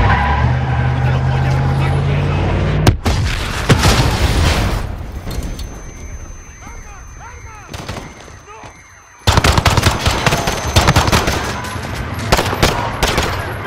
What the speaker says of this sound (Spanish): Hubo Una explosión en Piccadilly Circus. Hay disparos.